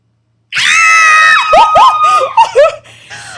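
A person screaming loudly and close, a long high shriek followed by shorter wavering yelps and squeals.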